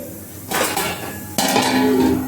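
A utensil stirs rice boiling in a kadai for khichuri, with a couple of sharp metallic clanks against the pan over a steady bubbling background.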